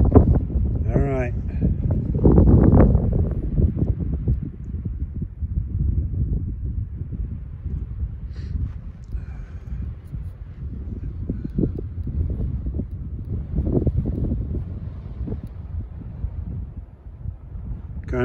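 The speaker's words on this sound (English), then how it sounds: "Kind of windy." Desert wind gusting steadily outdoors, low rumbling buffeting against the microphone throughout, with a person speaking briefly near the start and again later.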